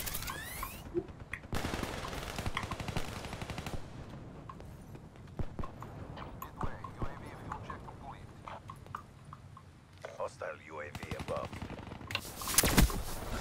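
Rapid machine-gun fire from the Tempest weapon in the video game Black Ops 3, with fast crackling bursts that run almost continuously, joined by more distant shots and a voice speaking over the noise.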